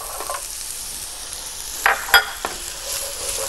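Thinly sliced carrots go into a hot frying pan and sizzle softly, with a few sharp clatters and scraping stirs of a utensil against the pan.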